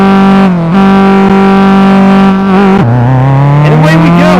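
A race car engine in a video game set at Bahrain International Circuit holds a loud, steady rev. It dips briefly, then falls and climbs again with wavering pitch, close and alone.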